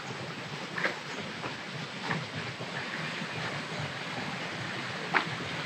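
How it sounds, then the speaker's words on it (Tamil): A continuous broad rush of water pouring from a dam shutter, steady and somewhat distant, with a few faint clicks and knocks over it. "சைடில் தண்ணி ஊற்றிட்டுருக்கு பாருங்க"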